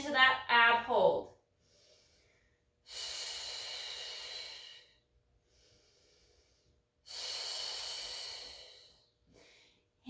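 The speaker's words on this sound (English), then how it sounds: "And breathing into that ab hold." Two long, forceful exhalations, each lasting about two seconds, during a Pilates mat class ab hold, with a brief spoken cue at the start and quiet gaps between breaths.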